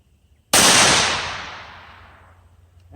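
A single sharp rifle shot from a Savage B-Mag bolt-action in 17 WSM firing 25-grain Winchester Varmint HE ammunition, loud and close, with a long decaying echo trailing off over about two seconds.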